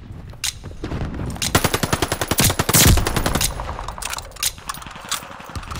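Loud automatic weapon bursts in Call of Duty: Vanguard, played in Last Team Standing mode on PS5: a dense rapid volley that peaks with a heavy blast, then a few scattered single shots, with no voices over it.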